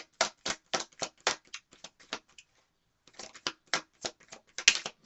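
Quick bursts of crisp riffling shuffles of a tarot deck, two runs separated by a short pause, close and fairly quiet with no voices.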